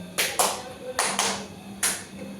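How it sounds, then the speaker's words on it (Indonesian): Four sharp hand claps ring out in an uneven rhythm, a close pair, then a spaced pair, over a quiet room with low background hum and no talking. "tepuk tangan 4 kali"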